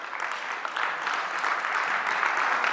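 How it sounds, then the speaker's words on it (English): Sustained audience applause fills a conference hall at an industry event, a dense, steady wash of many hands clapping at even loudness throughout. "So big round of applause for our Indian software developers"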